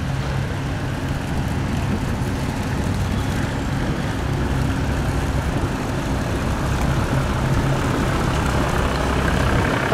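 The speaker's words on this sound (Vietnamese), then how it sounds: "Xà lan đang vô nghe các bạn." Steady low rumble of a barge engine as the vessel comes in on a river, a continuous droning hum that stays constant and moderately loud throughout, with no talk.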